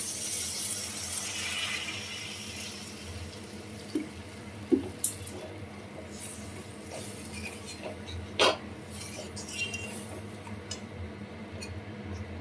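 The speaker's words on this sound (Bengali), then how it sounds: "মশলায় তেল ছেড়ে দিয়েছে, এবার আমি জল ঢেলে দিচ্ছি" Water poured into oily fried masala with tomato for a fish curry, a soft close splash and hiss early on, then quiet simmering with a few sharp clicks and knocks.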